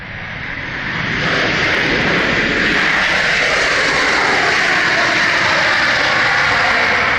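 A Jet2 passenger jet arriving from Grenoble roars at Manchester Airport, a loud, broad engine rumble that swells over the first second and then holds steady and close for the rest of the clip.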